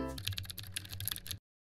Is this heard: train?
no